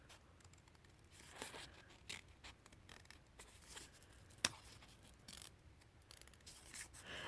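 Scissors snip and tear through paper while cutting out an ephemera tray shape, a quiet close series of irregular crisp cuts with one sharp louder snip midway.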